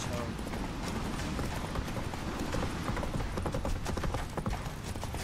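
Roach the horse galloping in The Witcher game, a dense, steady run of hoofbeats with creaking tack and mechanical rattles throughout, loud and continuous with voices talking over it.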